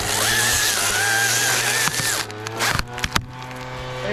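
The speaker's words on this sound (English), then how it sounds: "I'm also cutting the side of the branch first" Chainsaw cutting the side of a tree branch during a 150 ft tree takedown, a steady buzzing drone for about two seconds that then breaks into choppy bursts as the cut finishes.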